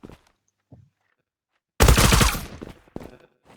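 A loud burst of rapid automatic gunfire in the online shooter Zula, preceded by a few faint clicks and footsteps and followed by scattered single shots.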